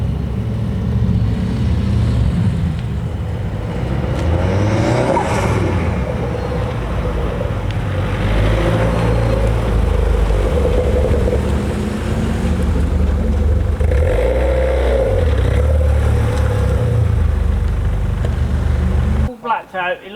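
A 330 bhp Vauxhall Corsa VXR approaches, its engine rising and falling in several loud revving surges over a steady rumble, while someone talks over much of it.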